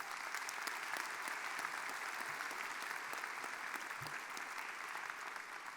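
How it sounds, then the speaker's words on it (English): Sustained applause from a crowd at a university convocation, a dense continuous patter of clapping heard at a moderate distance, steady throughout with no talking over it. "That applause behind me might have been my hook"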